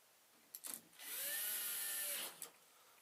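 An electric screwdriver drives screws into the casing of a PM500 KoolAir pump. After a couple of short ratcheting bursts, a single steady whirring run lasts over a second and then cuts off, close and clear.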